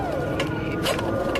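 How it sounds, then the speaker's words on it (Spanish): A dial-up modem connects to the internet with a loud, continuous burst of harsh, hissing screech and warbling tones, filling the whole short stretch. "¿Recuerdas el sonido de tu módem conectándose a internet?"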